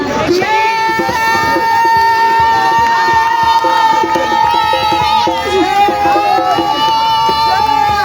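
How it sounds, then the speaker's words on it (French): A church congregation at a French-language evangelistic gathering shouts cries of joy, a loud, dense crowd of overlapping voices and cheering yells that continues without pause throughout. "Cri de joie, le cri de joie, des cris de joie"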